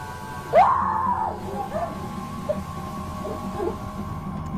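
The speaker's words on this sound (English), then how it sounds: "As one comes to her aid, the woman lets out a guttural scream." A woman who has collapsed on a shop floor lets out a single short, guttural scream that rises and then falls away, followed by faint background murmur and small noises.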